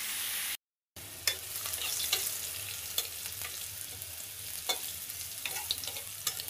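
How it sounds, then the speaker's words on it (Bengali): Fish turned over in a pan sizzle steadily close by, with scattered sharp crackles and pops over a soft frying hiss. A brief silent gap comes near the start, and no one speaks. "মাছগুলোকে উল্টিয়ে নিলাম। ভেজে নিয়ে তারপর একবারে চলে আসতেছি।"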